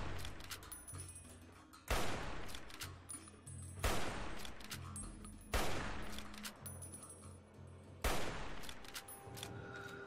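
Gunfire in Fallout: New Vegas, with four loud, sharp shots spaced a couple of seconds apart, each one ringing out into a decaying tail over a steady low game backdrop.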